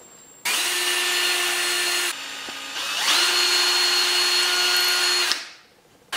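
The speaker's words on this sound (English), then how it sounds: "I'm going to start by drilling a hole right there" Power drill boring a small pilot hole with a small bit, a loud steady whine that pauses briefly, then resumes at slightly higher pitch before spinning down.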